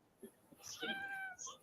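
A hungry cat gives a single drawn-out meow at close range, rising and then trailing off, with faint soft sounds just before it.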